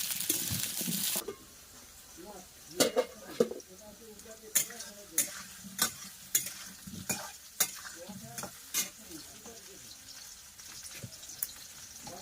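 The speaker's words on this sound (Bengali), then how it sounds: "আলুটা একটু ঢেকে ঢেকে ভাজা করছি" Steady sizzling of new-season potatoes frying in oil in a partly covered wok, with repeated sharp clinks and scrapes of a utensil stirring, fairly close.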